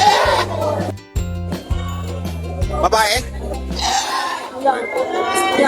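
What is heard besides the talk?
goats bleating at a livestock market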